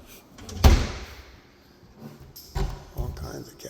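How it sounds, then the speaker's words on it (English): Kitchen drawers and cabinet doors in a Sebastian, Florida home are pulled open and pushed shut, giving one loud close thump and a few softer knocks, with talk nearby. "We have some drawers down here."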